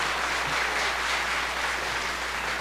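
Applause from a banquet audience at a year-end awards event, a steady wash of many hands clapping that holds evenly for a couple of seconds with no talk over it.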